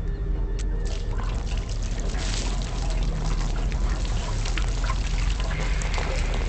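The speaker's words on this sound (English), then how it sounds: "How do I pour the gas?" Gasoline poured inside a van in the game Road 96, a continuous splashing, trickling pour under steady game background sound, faint voices now and then.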